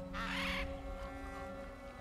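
A crow-like bird caws loudly in God of War Ragnarök, one harsh call lasting about half a second over a steady hum of game ambience.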